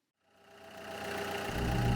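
A car engine with a muffler starts up out of silence and builds into a steady, close idling rumble that grows louder over two seconds and ends in a heavier low throb.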